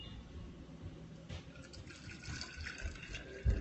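Fresh carrot juice is poured into a mason jar, a soft, close liquid trickle and splash that keeps running, ending with a light knock.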